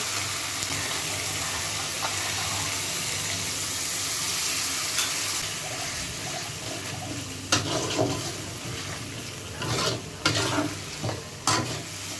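Ginger garlic paste sizzles in a pan, then water is added and everything is stirred, giving a steady hiss followed by sharper scraping and splashing stirs near the end.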